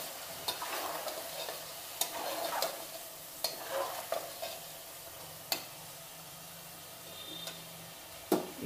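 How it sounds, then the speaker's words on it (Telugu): Country chicken with salt and curry spices is stirred in a pan, a spoon scraping and clacking against the metal in sporadic strokes over a faint, steady sizzle, close and fairly quiet. "దీంట్లోనే తగినంత ఉప్పు, కూర వేసి కొంచెం కలియబెట్టండి."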